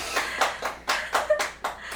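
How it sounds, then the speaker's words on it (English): Several people clap their hands together in a small indoor group, giving a few loose, uneven bursts of claps close by, with no talking over them. "Okay, clap."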